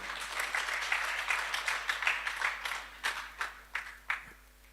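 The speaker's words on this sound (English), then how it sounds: "let's put our hands together and give a big round of applause to Professor Godfrey Asimwe." A lecture audience applauds Professor Godfrey Asimwe at a graduation public lecture, a steady wash of clapping that tapers into a few separate, louder claps near the end.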